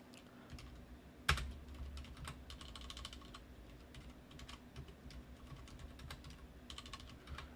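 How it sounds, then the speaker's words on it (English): Close, quiet typing on a computer keyboard, a loose irregular run of light key clicks with one louder clack near the start, with no talking. "I can't even type right now"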